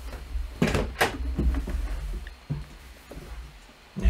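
A house door opened to let a cat in, heard close as a few sharp knocks and a clatter of the door moving, followed by faint shuffling and a final bump, with no talk.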